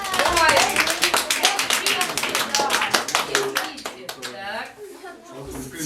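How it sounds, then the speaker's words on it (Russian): A group of children at a teen club event clap their hands, sharp individual claps in a quick uneven rhythm, close by, with children's voices talking over the clapping. "Ну, где же ваши аплодисменты?"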